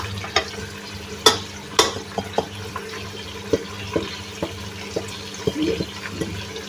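Spices tipped into mutton frying in a pan for nihari, giving a steady sizzle broken by a string of sharp clicks and clatters, near and clear, with no one talking.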